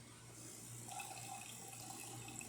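Hot water pouring steadily from the spout of a Jura Ena 8 coffee machine after a full service, a soft continuous splashing stream with faint mechanical hum beneath, no talking.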